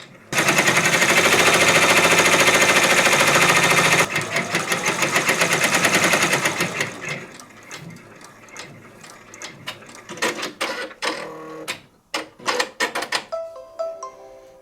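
Brother or BabyLock multi-needle embroidery machine stitching a placement line, a loud rapid mechanical clatter running steadily for several seconds, then slowing and breaking into scattered clicks and short bursts as it stops.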